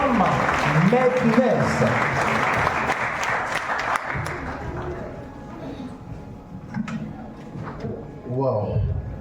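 Applause from an audience at an excellence ceremony of the African foreign students' union in Meknes, loud clapping that fades midway, with a voice speaking over it and a final burst of cheering.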